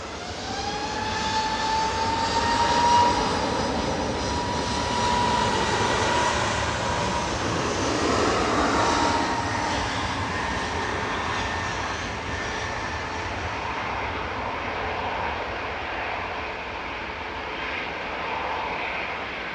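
A TUI Boeing 737 MAX 8 jet, a five-year-old aircraft, takes off from Manchester Airport, its loud, steady engine roar filling the air throughout, with a high tonal whine riding over broad rumbling noise as it slowly fades.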